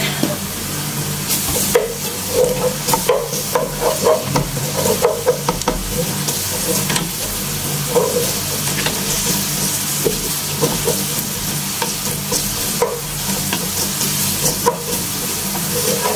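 Garlic sizzles steadily in a hot pan with oil while a spoon stirs it, close and loud, with a constant frying hiss broken by frequent scraping and clacking strokes.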